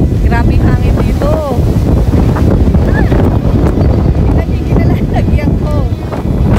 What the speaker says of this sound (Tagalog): Grabe hangin dito.